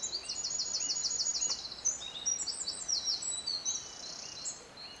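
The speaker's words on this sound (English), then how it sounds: "Lots of birdsong" Woodland birdsong by the Mells River among beech trees, with several birds trilling and chirping at moderate distance, repeated high twittering phrases over quiet background hiss, with no talk.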